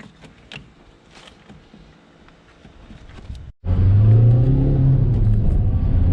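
Car engine accelerating hard in a lower gear on a drive, heard from inside: quiet cabin knocks first, then a sudden loud, steady engine roar and rumble that holds to the end.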